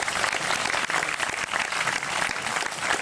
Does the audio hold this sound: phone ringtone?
no